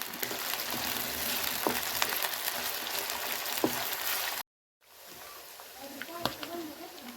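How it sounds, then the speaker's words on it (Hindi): Meat frying in a karahi gives a loud, dense sizzle with occasional stirring knocks, broken by a brief cut of silence before the crackling frying returns. "अब गोश्त को अच्छी तरह से पका लेंगे।"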